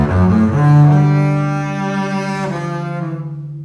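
A double bass bows a long sustained low note with a crescendo from Britten's Peter Grimes. A few rich, resonant notes follow and die away near the end, heard solo and close.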